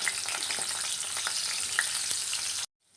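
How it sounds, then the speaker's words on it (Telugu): Beetroot and carrot pieces fry in hot oil with a loud, close, crackling sizzle and scattered spatter pops, ending abruptly in near silence. "ఇదే ఆయిల్లో బీట్రూట్ క్యారెట్ ముక్కలు వేసి ఫ్రై చేసుకోవాలి"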